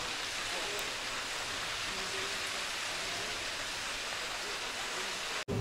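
Yeongchu waterfall on a mountain trail gives off a steady, dense roar of falling water, loud and unbroken throughout, with a brief knock just before the end.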